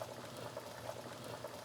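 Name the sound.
eggs boiling in a pot of water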